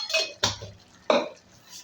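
Pumpkin with sugar and crushed peanut powder is mixed in a metal pan, giving a few brief, close clinks and scrapes of the spoon against the pan in quick succession.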